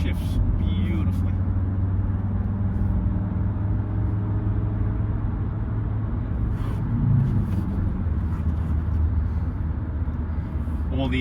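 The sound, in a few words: 1997 Mercedes-Benz E290 Turbodiesel 5-speed car driving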